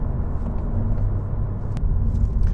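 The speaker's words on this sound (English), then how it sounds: "I just put it into fourth gear. I'm driving at about 70 kilometers an hour right now." A 2017 Honda Civic with a manual gearbox cruises in fourth gear at about 70 km/h, giving a steady low engine and road rumble heard from inside the cabin with no break.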